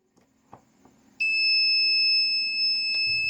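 After a few faint clicks and taps, the EWS buzzer of a faulty RINREI DVB-T2 set-top box starts, loud and piercing, sounding continuously at close range.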